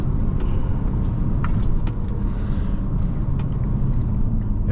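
A 2020 Audi S4 3.0T Prestige with Quattro accelerates at full throttle out of a turn, its engine a loud, steady roar heard from inside the cabin, with faint crackles from downshift pops.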